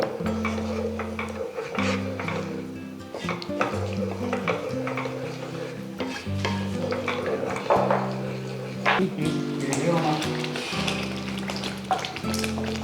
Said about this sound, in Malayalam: ഇനി ഇത് നന്നായിട്ട് മിക്സ് ചെയ്ത് അതുമായിട്ട് നന്നായിട്ട് യോജിപ്പിച്ച് ഇച്ചിരി കൂടെ അത് വഴറ്റി ഒന്ന് കുറുകണം.